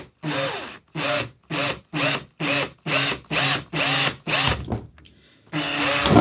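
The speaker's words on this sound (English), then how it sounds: "Carefully drill, taking your time and ensuring you do not damage any wires." A power drill whirs in about ten short, evenly spaced bursts while drilling a hole in a plate, then pauses before starting again with a longer run; loud and close, no talking.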